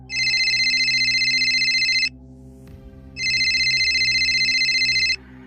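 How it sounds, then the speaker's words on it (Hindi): A phone rings loudly in two long bursts separated by a short pause, over a low steady background hum. "सेठ की घंटी बजने ही वाली है।"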